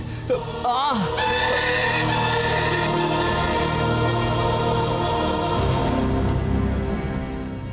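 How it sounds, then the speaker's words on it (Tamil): An attacking bird as a Tamil TV serial sound effect: shrill, harsh bird cries over a sustained, loud, layered dramatic background score, with a voice speaking briefly near the start. "என்ன பறவை இது? எதுக்கு இப்ப என்ன வந்து அட்டாக் பண்ணுது?"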